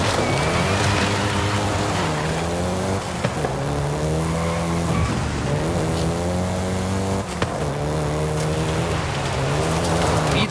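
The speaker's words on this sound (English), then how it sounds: "including the Golf GTI you're driving right now" A Volkswagen Golf GTI driving in the Forza Horizon 5 video game, its engine droning loud and close with repeated rising revs and gear shifts, tire noise hissing underneath the whole time.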